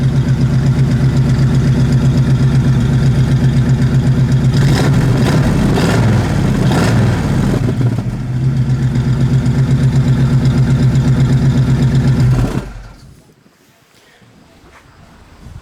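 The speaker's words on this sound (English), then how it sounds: "It's got new dual exhaust. It's got a nice idle to it." A 1970 Buick GS 455 tribute with new dual exhaust idles with a steady low rumble and deep exhaust burble, briefly swelling mid-way, then cuts off abruptly near the end, leaving quiet.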